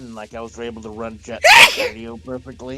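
One loud, sharp sneeze bursts out in the middle of casual speech, with people talking before and after it.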